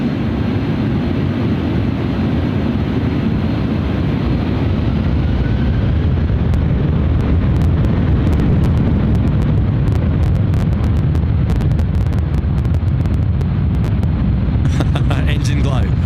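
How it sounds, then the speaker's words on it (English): Airbus A330 jet engines roaring at full power on takeoff from runway 16 right at Sydney airport, a loud, steady, broadband thunder heard from a distance with wind buffeting the microphone. "Runway 16 right, clear for takeoff, Malaysia 140. There we go, Malaysia 140, yeah, you just heard loud and clear. The pilots are ready. Foot to the metal, A330."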